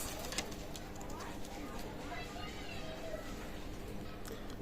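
Rampuri pigeons coo faintly in a loft under a person's speech, with soft ticking and rustling noise throughout.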